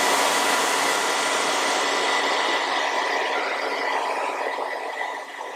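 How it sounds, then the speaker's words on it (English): A hair blow dryer on a cool setting blows steadily over a lace wig closure, a loud, continuous broadband whoosh that holds even throughout and eases off slightly at the end. "I'm going to take my blow dryer on a cool setting and just blow dry that and set it in place"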